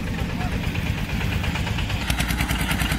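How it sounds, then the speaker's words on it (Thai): A modified four-cylinder Thai farm vehicle idles at a small enthusiasts' meet, its steady low rumble with a slight knocking pulse running continuously amid background chatter and crowd noise. "อันนี้เป็นเครื่องสีสูบอีกคันนะครับ"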